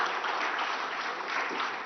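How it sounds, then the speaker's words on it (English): An audience at a conclave event in a Guwahati hotel applauds Sadhguru with dense, sustained clapping that stays loud and even throughout. "a bigger round of applause for Sadhguru"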